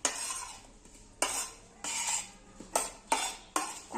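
A spoon stirs a cabbage, onion and capsicum mixture for frankie filling in a pan, making repeated scraping strokes in a steady rhythm, close and moderately loud.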